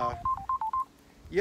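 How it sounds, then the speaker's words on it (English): Short electronic phone tone of about six quick beeps in a steady rhythm, fairly clear and close, with a voice speaking briefly before and after it. "that's my phone"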